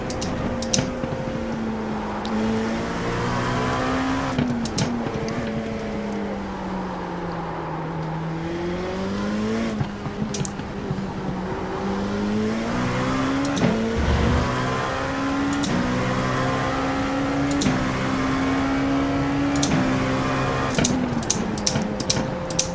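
GTP prototype race car engines in a sim racing game at Miami, one car's engine droning steadily up and down through gear changes, close and loud with no talk over it.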